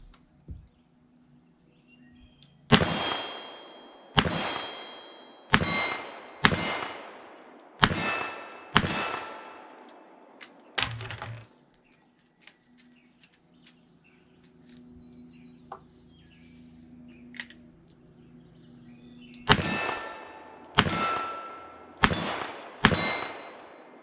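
A Smith & Wesson Model 10 .38 Special revolver fires at steel targets about 15 yards away from a deck. Roughly eleven sharp shots, each followed by a bright ringing clang, come in two quick strings separated by a quiet pause, with no talking.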